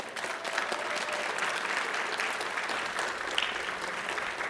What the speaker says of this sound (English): I think we all should give them a round of applause